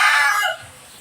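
Wyandotte rooster suffering from a cold gives a short, loud crow that cracks and drops off after half a second, leaving quiet background.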